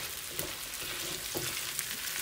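Smoked turkey sausage and potatoes fry in a pan with a continuous close hiss and sizzle, broken by a few soft stirring knocks.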